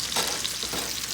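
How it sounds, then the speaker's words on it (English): Beef chuck roast frying in butter gives a dense, close, steady sizzle and crackle with no voices over it. "That is that chuck roast. It's frying."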